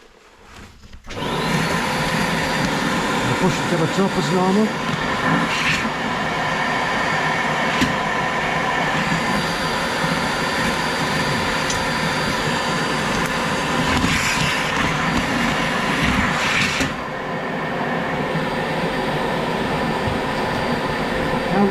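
A vacuum runs steadily and loudly while a wood stove is cleaned out, starting after about a second and holding a constant roar with brief surges, a voice speaking briefly over it.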